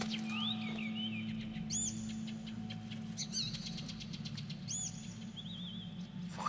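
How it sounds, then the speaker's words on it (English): Birds chirp and trill in short, scattered calls over a steady low ambient hum in Assassin's Creed Chronicles: China, with no talking. "Fucking birds."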